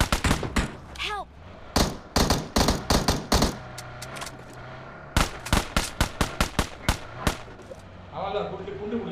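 Gunfire in the mobile battle royale game BGMI, loud sharp shots in rapid bursts and single cracks across the whole span, with players talking between the volleys.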